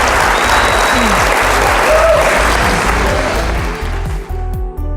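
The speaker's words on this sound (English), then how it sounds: "Give yourselves a round of applause." Conference audience applause at a real estate event, a loud sustained wash of clapping filling the hall, with a low engine-like rumble and rhythmic thumps underneath, fading slightly at the end.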